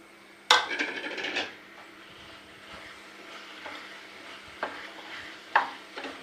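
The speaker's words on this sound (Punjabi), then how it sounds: "ਦੇਖੋ ਆਪਾਂ ਇਸ ਤਰ੍ਹਾਂ ਚੰਗੀ ਤਰ੍ਹਾਂ ਨੂੰ ਹਿਲਾਉਣਾਗਾ" Crumbled paneer for dhaba-style bhurji is stirred in a hot pan, a spoon scraping and clinking against the metal in a few separate bursts over a faint background sizzle.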